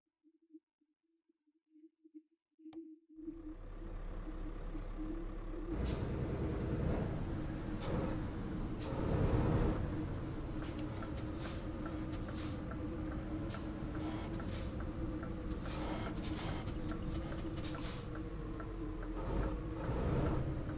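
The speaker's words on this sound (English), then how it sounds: "I love the sound this engine makes" A heavy lorry engine in Euro Truck Simulator 2 starts after a brief ticking, then settles into a steady deep idle and rumble with occasional hisses and clicks, moderately quiet and alone.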